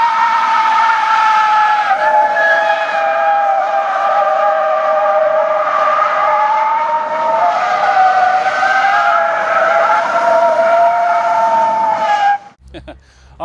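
A Ranger EV electric truck drives on the road with a sustained, wavering high whine and tonal hum lasting over twelve seconds, loud and close, cutting off abruptly at the end.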